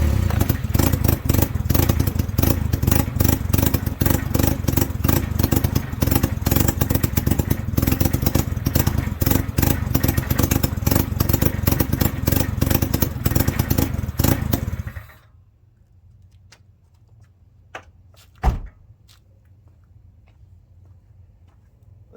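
A 1988 Honda CRX engine idling roughly, a loud, rapid, uneven clattering drone that runs for about fifteen seconds and then cuts off abruptly, leaving a quiet background hum with a brief clunk.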